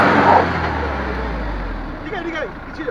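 A Mahindra Xylo engine pulls in second gear on a rough off-road track, a low steady rumble throughout with faint voices and short chirpy sounds near the end.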